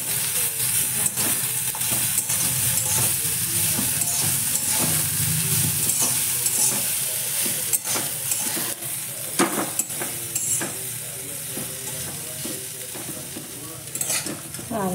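Bitter gourd stir-fry with coriander being stirred in a pan over a switched-off flame, a steady sizzle with repeated scraping strokes of the spoon running throughout.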